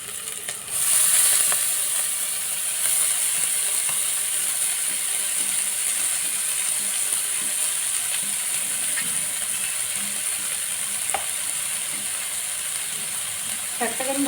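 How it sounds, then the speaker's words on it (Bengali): Fenugreek greens and prawns are stirred in a hot frying pan: a continuous close sizzle with scraping, rattling strokes of the utensil and a few sharper knocks toward the end. "শাকটাকে আমি ভালো করে নেড়ে নেব।"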